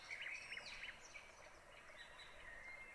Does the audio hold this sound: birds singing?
yes